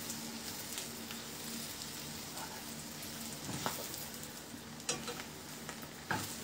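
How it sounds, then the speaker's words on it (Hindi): Food fries lightly in a pan, a soft, steady sizzle at low level punctuated by a few sharp utensil clicks and scrapes near the end. "हल्की सी फ्राई करेंगे, ज़्यादा नहीं।"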